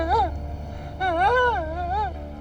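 A man imitates a lion's roar with his voice, but it comes out as a wavering, whining howl like a crying dog, in two drawn-out rising and falling cries.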